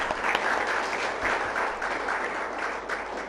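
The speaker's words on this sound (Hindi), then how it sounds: "2000 तालियां हो जाए इनके लिए।" Sustained applause from an audience at a gathering, loud and continuous with dense overlapping claps and slight swells across the few seconds.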